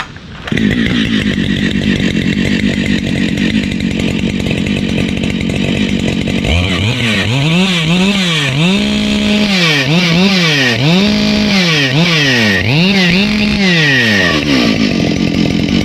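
Husqvarna chainsaw running with its spark arrestor removed, loud steady idle that breaks into repeated sharp throttle revs rising and falling, close and continuous.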